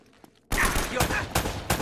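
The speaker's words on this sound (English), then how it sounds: "They're shooting at you too" Dense gunfire from the video game Uncharted: Drake's Fortune erupts suddenly after a brief quiet moment, a loud, continuous barrage of overlapping shots with a few sharper cracks.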